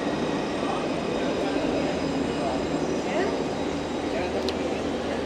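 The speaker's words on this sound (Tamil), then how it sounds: "ஒரு ட்ரெயின் வந்துட்டுருக்கு." A five-car train arrives at a station with a steady, loud rumble and rail roar, with a brief high squeal, continuous throughout.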